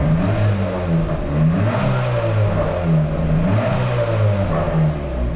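A turbocharged VTI car engine revving repeatedly, loud and close, with the pitch rising and falling in several waves over a steady rumbling drone.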